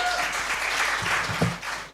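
A crowd at a live company anniversary celebration applauds a colleague with dense, steady clapping and cheering that fills the room.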